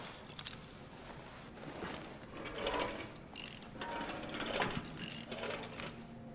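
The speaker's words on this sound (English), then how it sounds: "we can actually also use the wrench to get into this as well" In Amnesia: The Bunker, a wrench works a metal mechanism with close ratcheting clicks and grinding gear turns that come in uneven bursts.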